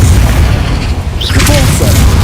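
A spell blast in the Hogwarts Legacy video game booms loudly with heavy low rumble, followed by crackling bursts and shimmering magical tones as a voice shouts spell names.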